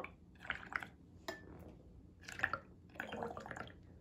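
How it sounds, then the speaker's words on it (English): Faint gurgling bubbles blown through a straw into soapy, food-colored water, a few soft bubbling bursts spaced across a quiet background. "you're gonna wanna carefully blow into it to create the bubbles like this"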